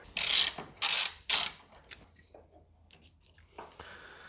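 A ratchet fitted with a 30mm socket loosens a bolt near the battery of a Peugeot 107: three loud bursts of rapid clicking, then faint handling noises and a brief metallic rattle, with no talk.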